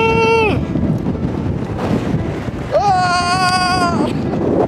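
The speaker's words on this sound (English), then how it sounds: "So windy!" Strong wind buffets the microphone on a desert hiking trail, a steady loud rumbling roar throughout, with two brief high wavering whine-like cries rising above it.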